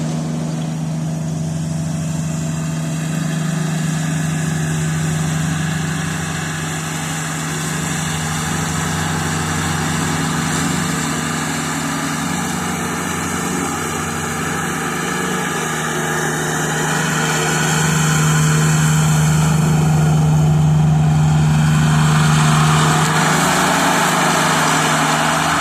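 Kubota BX compact tractor engine running steadily while mowing a hilly yard, a loud continuous drone with a slight swell in power toward the end, no talking.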